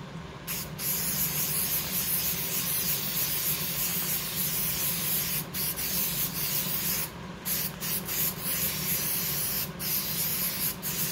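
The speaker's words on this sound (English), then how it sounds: "I'll do the next section with spray adhesive." A steady, loud hiss of spray adhesive from an aerosol can runs nearly the whole time, with a few brief breaks where the nozzle pauses before spraying resumes, gluing pool noodles.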